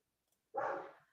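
A single dog bark or yelp sounds faintly in the background, a brief burst trailing off, with no talk over it.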